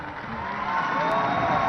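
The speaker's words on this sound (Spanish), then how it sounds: "Un fuerte aplauso para Mariana." Audience applause for Mariana at a testimony event, steady clapping that swells slightly louder over nearly two seconds, with a murmur of crowd noise beneath.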